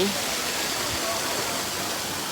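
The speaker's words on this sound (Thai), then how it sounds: "น้ำไหล" Clear water in a stream at a scenic spot in Phetchaburi, Thailand, rushes and splashes close by in a continuous hiss with no pauses.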